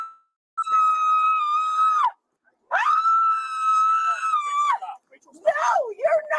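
A woman being arrested by police screams at close range in two long, sustained, piercing shrieks, each about two seconds, then breaks into strained, wailing cries.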